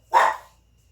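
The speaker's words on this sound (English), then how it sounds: "that's my puppy barking because she wants the dog" A puppy gives one sharp, close bark indoors, rising quickly and fading within half a second, with a quiet room and no talking around it.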